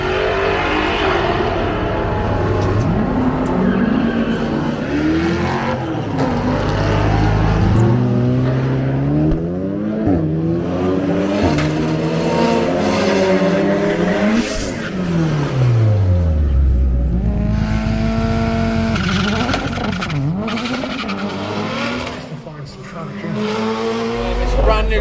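A Volvo street race car, recently converted from supercharger to turbo, revs and accelerates hard at a UK street racing weekend, with rising engine harmonics and tire noise filling the whole stretch, loud and close.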